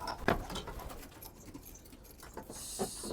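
Homing pigeons from Syria stir and flutter in a loft as they are brought in, soft cooing and faint wing patter close by with a couple of sharper rustles, all quiet and with no voices.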